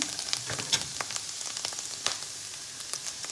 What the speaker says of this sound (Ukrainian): Ця капуста в нас кипить, бурлить, ми її так мішаємо.